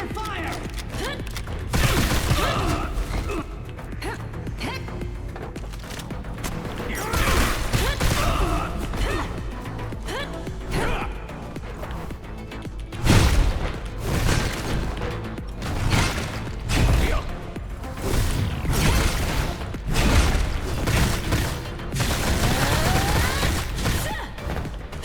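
Gunfire and crashing impacts from the ANNO: Mutationem video game hammer away across a busy stretch of combat, with thuds and mechanical clatter mixed in and a voice speaking now and then.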